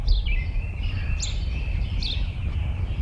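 Birds sing on a spring morning in the American Midwest, with a few clear, high chirping phrases repeating about once a second over a low, steady background rumble.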